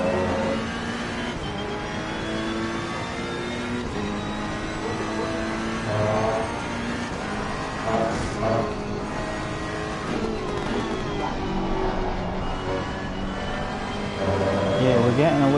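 McLaren and Ferrari race cars on the Donington circuit in Assetto Corsa Competizione drone on steadily with their engines, revving and shifting through gears continuously, loud and close throughout.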